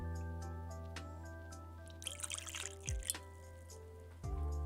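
Buffalo Trace whisky poured into a glass, a quiet close trickle and drip of liquid with a brief splashy burst midway, faint overall against a humming background, no voices.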